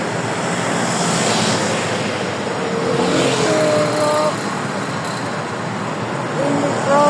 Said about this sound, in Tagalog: When we cross the road, because so many motorcycle like this.